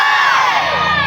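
A live audience at a Mamanda folk theatre performance shouts and cheers together, a loud, sustained wall of crowd voices with high whoops, with no pause across the short moment.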